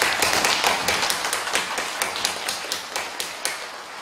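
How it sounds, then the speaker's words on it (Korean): A church congregation gathered for an opening worship service at a 2019 pastors' retreat applauds in encouragement, a dense roomful of clapping that settles into a steady, rhythmic beat of unison claps for several seconds. "격려의 박수를 크게 보내드리겠습니다"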